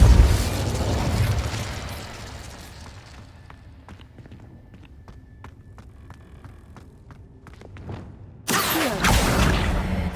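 Incendio fire spell cast in Hogwarts Legacy, a loud fiery burst at the start decaying into quieter ticks and clicks, then a second bright whooshing flare near the end.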